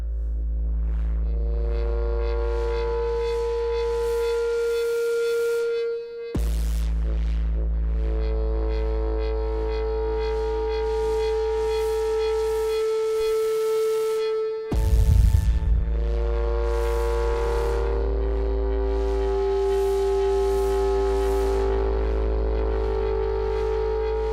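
A buzzing synthesizer drone from an Arturia PolyBrute 12 with a distortion effect holds a sustained pitch with pulsing overtones, cutting out briefly twice before continuing.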